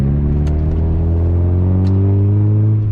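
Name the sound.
Mazda MX-5 NB car exhaust with baffler removed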